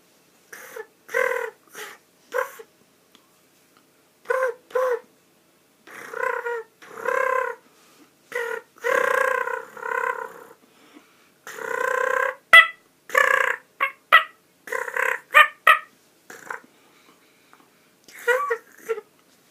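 A man imitates a wild turkey purr call with his voice, rolling his tongue to make short, fluttering, rattling bursts in uneven groups separated by brief pauses, close and clear.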